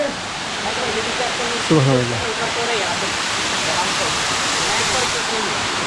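A waterfall in the Rangamati hills roars in an even, dense rush that fills the whole stretch, with someone speaking briefly and faint voices under the constant flow.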